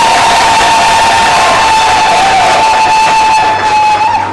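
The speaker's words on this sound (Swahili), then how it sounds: "Tupigie basi Moses makofi." Guests at Lilian and Moses's wedding applaud the groom Moses with loud, dense clapping and crowd noise that runs steadily for several seconds, a thin sustained tone hanging over the din.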